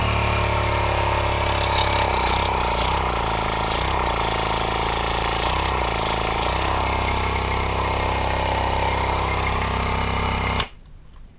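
A small Huragan H0100 car air compressor runs loud and close with a steady motor drone and rapid mechanical chatter for about ten seconds, then switches off suddenly.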